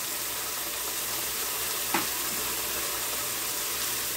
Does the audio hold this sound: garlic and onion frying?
yes